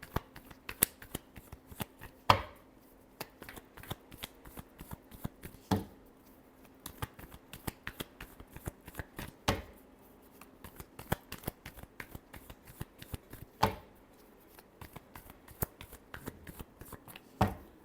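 Tarot cards being shuffled by hand in repeated quick riffles and taps, sharp crisp bursts every few seconds between lighter flicks, close and fairly quiet with no talking.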